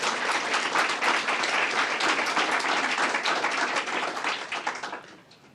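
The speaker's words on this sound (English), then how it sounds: "Let's give them a round of applause as well." A crowd applauds with dense, steady clapping that carries on for several seconds before fading out.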